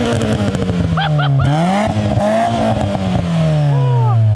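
A Mitsubishi Eclipse GS engine revs repeatedly up and down, loud and close, with rising and falling pitch sweeps between sharp throttle blips.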